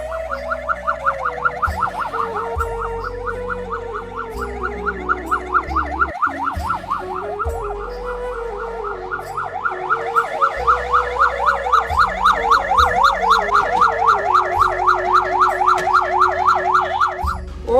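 An ambulance siren wails continuously in a rising and falling pattern, loud and close, with a steady engine rumble beneath it and no speech.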